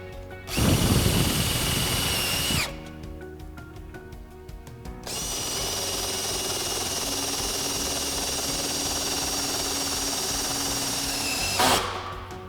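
A power drill drives side entry screws into stair rail hardware in loud sustained bursts, a long whirring run, a pause with faint rattling, then a second extended run ending in a brief surge.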